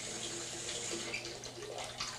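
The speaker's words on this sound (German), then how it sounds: "Ich lasse etwas kühleres Wasser ein." Cooler water runs steadily from a bathtub tap into a filling tub, a continuous soft splashing rush with no voices.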